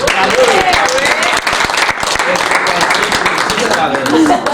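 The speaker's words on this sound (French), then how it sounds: "et on l'applaudit" Loud, steady applause from a crowd at a magic show press conference fills the whole stretch, with cheerful voices and whoops mixed in under the clapping.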